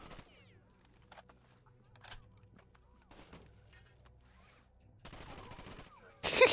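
Gunfire in the video game Rainbow Six Vegas 2, scattered bursts of shots with sharp transients spread across a quiet stretch, then a louder volley at the end.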